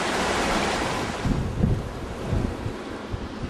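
Ocean surf rolling onto Na Pali Beach on Kauai, a steady wash of breaking waves with wind buffeting the microphone and a few heavier surges.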